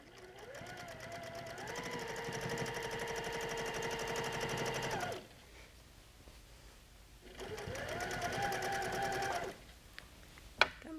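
A sewing machine quilting along the seams of a quilt, running in two long steady whirring bursts with a brief pause between, then a final clack, close and alone.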